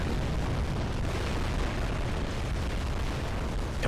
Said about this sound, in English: You see the big explosion.